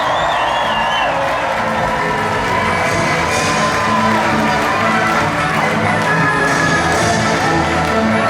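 Spectators at the Austrian Grand Prix cheer, whoop and applaud loudly and continuously, a dense roar of clapping and shouting voices filling the whole stretch.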